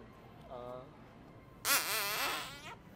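A loud, drawn-out fart produced as a prank on a stranger in a store, sounding as a long wavering blast after a shorter one. No talk is heard.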